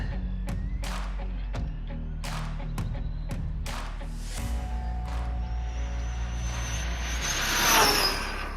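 A stock-motor Arrma Big Rock RC car running on a 6S Turnigy Panther pack eases forward with a series of sharp thumps, then its motor whine climbs loud and high near the end.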